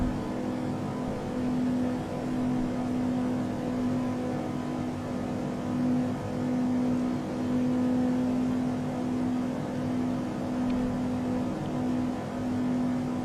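A Cirrus SR-22 piston engine in Flight Simulator 2020 drones steadily after being throttled back on descent, a constant low hum with a faint whirring tone and no talk over it.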